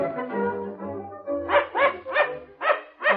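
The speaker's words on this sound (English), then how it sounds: "Oh, dear, they would have a dog." A dog barks repeatedly aboard a train in an old radio drama, a series of four or five close, sharp woofs following a growl and whimpering sounds.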